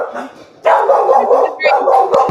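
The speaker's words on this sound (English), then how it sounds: "every time she barks" A dog barks loudly and close by in a quick run of sharp yaps and yips, with a short pause between two bursts.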